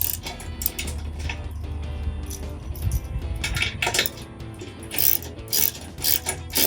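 A ratchet tightens 12mm bolts with washers and nuts on a Rough Country Classic full-width rear bumper on a Jeep Wrangler YJ, making close, rapid clicking over a steady low rumble.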